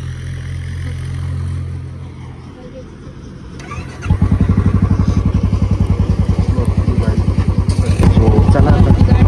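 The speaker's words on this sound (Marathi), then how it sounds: "सो चला बुलेट स्टार्ट करूया." A Royal Enfield Bullet motorcycle engine starts after a few quiet seconds of background talk and crowd noise at a temple, then settles into a loud, steady, rhythmic thumping idle that runs close by to the end.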